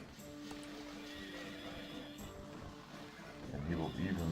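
Horses in the strategy game Knights and Merchants whinny and clop their hooves, with a loud neigh rising near the end, while someone talks over the game sounds.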